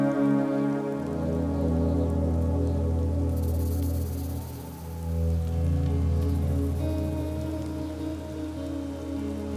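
Steady rain falls outdoors with a broad, continuous hiss and a low, droning rumble beneath it, swelling and easing as gusts of wind pass through the wild.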